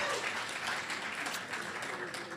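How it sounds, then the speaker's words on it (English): An audience applauds at a book event, a dense, continuous clatter of clapping hands that fills the room for a couple of seconds, loud and steady, with no voices over it. "I should have left room for applause"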